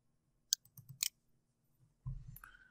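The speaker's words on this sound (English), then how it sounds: "And double click to open." A computer mouse gives a few quick, close clicks, including a crisp double click, followed by a faint low rustle and a soft tone.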